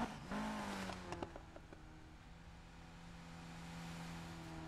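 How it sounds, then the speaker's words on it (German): Car engine revving in Need for Speed, a tuned car with gold rims, a steady low drone with brief rising rev bursts near the start, then a sustained hum with no talk. "der Motor klingt ein bisschen interessant"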